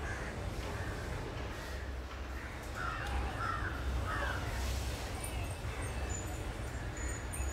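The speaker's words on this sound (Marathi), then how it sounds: "हळूहळू हळूहळू बघा कावळे येऊन खाऊन जात आहेत" Crows at a balcony feeding plate cawing a few times at moderate distance, the short harsh calls set against a steady broadband background noise.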